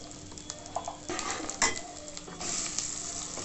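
Mustard seeds, cumin and asafoetida sizzle in hot oil, a steady crackling hiss with occasional scrapes and clinks of a spoon stirring in the pan.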